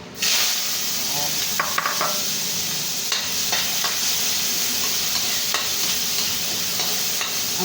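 Ginataang langka ingredients frying in hot oil in a wok, a loud continuous sizzle and hiss that starts abruptly as they go in, with occasional stirring scrapes, close up.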